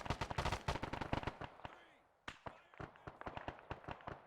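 Grenades exploding amid rapid gunfire in a tactical combat video game, dense bursts of sharp shots followed by a brief lull, then a loud blast and renewed staccato firing.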